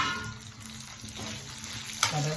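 Lentils, peanuts, dried chillies, garlic and shallots sauté in a pan with a steady, close sizzle and light scraping stirs, ending in a brief clatter. Nobody speaks.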